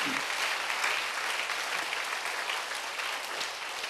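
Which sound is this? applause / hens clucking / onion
applause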